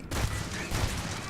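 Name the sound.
gunshots from shooting deactivated robots in video game Starfield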